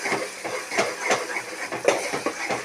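Ginger, garlic and onion masala sizzling in a pan for mutton curry, a steady hiss of frying with a few brief crackles and pops, fairly close and alone.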